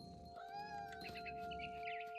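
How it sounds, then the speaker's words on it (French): A cat meows in the video game What Remains of Edith Finch, a drawn-out, wavering cry that rises and bends, faint and alone over a quiet game soundtrack. "Pourquoi elle miaule?"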